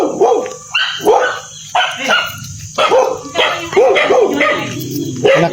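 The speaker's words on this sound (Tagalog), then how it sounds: "Yung aso." A dog barks repeatedly in close, loud bursts, about five or six barks with short pauses, some sounding yappy and whiny.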